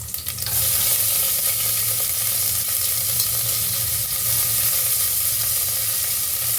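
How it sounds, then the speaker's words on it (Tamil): Steady, loud sizzling of chopped onion frying in hot oil, continuous and close, with faint stirring scrapes and no talking. "வெங்காயம் கொஞ்சம் நல்லா ஃப்ரை ஆகணும்."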